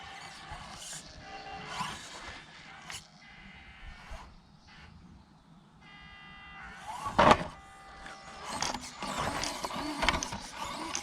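A small HG-18 RC mini crawler styled as a Suzuki Jimny, running a 3S setup with a drag brake, gives off intermittent whiny electric motor and gear buzzing, with short bursts and pauses and a sharper clack near the middle.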